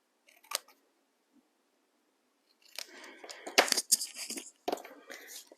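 Scissors cut through a paper banner at close range, a short snip followed after a pause by a run of crisp, crunchy cuts in quick succession, fairly quiet and with no talking.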